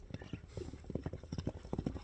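A Kyrgyz horse's hooves clip-clopping in quick, even beats, close and moderately quiet, with a voice partly audible over them.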